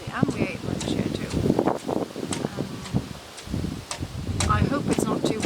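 Gusts of wind buffet the microphone outdoors in a garden, with rustling and flutter rising and falling over a few seconds.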